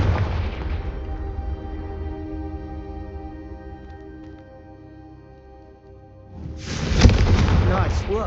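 Confringo spell blasts in Hogwarts Legacy: a heavy booming burst opens, fades under a sustained tonal score, then a second loud blast erupts near the end.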